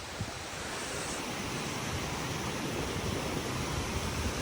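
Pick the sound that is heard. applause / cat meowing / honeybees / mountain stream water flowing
mountain stream water flowing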